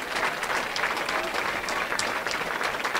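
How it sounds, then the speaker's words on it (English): A high school football crowd at Omaha Roncalli at Scottsbluff gives a steady round of applause, dense and continuous clapping from the stands at moderate distance without a break. "Everybody with a round of applause."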